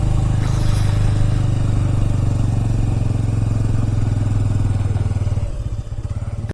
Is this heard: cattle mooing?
no